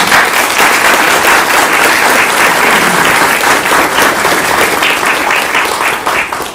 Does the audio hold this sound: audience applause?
yes